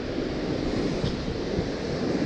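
Rough surf rolling onto a beach near a pier in the early morning, a steady, loud wash of breaking waves with wind buffeting the microphone throughout.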